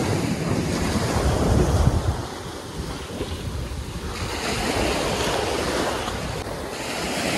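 Ocean waves wash onto a Kerala beach, a continuous loud roar of surf mixed with heavy wind buffeting close by.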